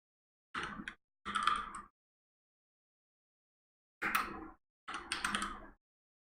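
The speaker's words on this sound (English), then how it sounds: "having to send invitations with a PlayStation keyboard" A PlayStation keyboard is typed on in four short bursts of close clicking, two quick bursts, a few seconds of silence, then two more, all faint and with no talking.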